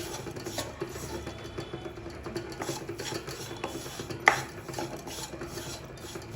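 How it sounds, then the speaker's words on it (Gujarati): Mawa and jaggery roasting in a pan for a Diwali sweet, a quiet steady scraping and rubbing of a spoon stirring, with one sharper clink of utensil against the pan; no talking. "માવો અને ગોળ બરાબર શેકાઈ જાય ને ત્યાં સુધી આપણે એને હલાવી જવાનું."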